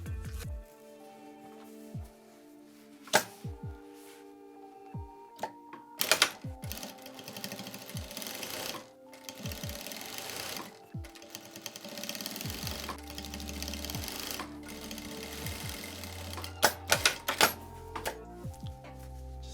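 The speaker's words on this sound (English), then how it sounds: "I'm going to put a straight stitch right here" A sewing machine runs a straight stitch along a basketball jersey seam, in several close, loud bursts of rapid needle chatter separated by short pauses and handling clicks.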